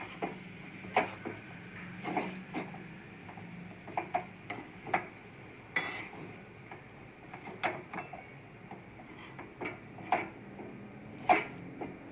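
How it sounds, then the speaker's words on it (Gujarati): Spoon scraping and tapping in a pan while stirring vegetable rice with coriander and garlic, quiet irregular clicks and knocks scattered over a faint background hum, no talking. "ધાણા અને લસણ એડ કરી દઈશું અને તેને પણ આપણે ગેસ બંધ કરી દઈશું અને સરસ રીતે એને મિક્સ કરી"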